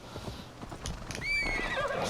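A horse in the video game Assassin's Creed Valhalla clops along on its hooves, then lets out a clear, high whinny partway through, the sounds close and distinct over a soft game background.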